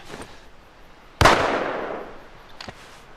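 Gunfire in The Last of Us video game: a single loud, sharp close shot with a decaying tail, framed by fainter distant pops before and after, with no talking.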